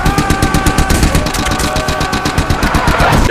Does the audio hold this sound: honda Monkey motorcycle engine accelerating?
no